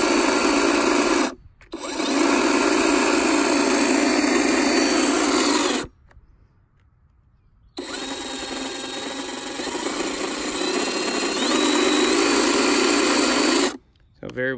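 A Greenworks Pro 80V cordless hedge trimmer revs up quickly to a loud, steady high-pitched buzz, cuts out briefly, runs again, stops for a couple of seconds, then restarts and runs on before a final short stop.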